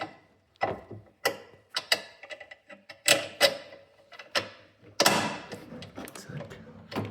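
A screw is driven into a shock absorber on a Miele washing machine, giving a string of sharp, close mechanical clicks and ratcheting taps with short pauses between bursts.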